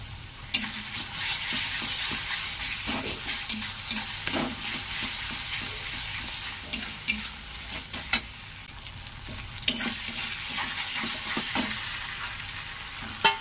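Ginger paste sizzles in a wok with frying onion and garlic for a fish curry: a continuous close hiss broken by repeated sharp clanks and scrapes of a stirring spatula.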